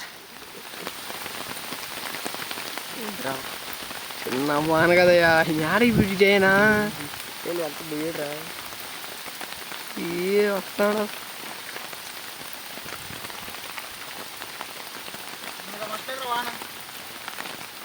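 Rain falls steadily on a forest, a constant dense patter that continues throughout while people speak intermittently over it.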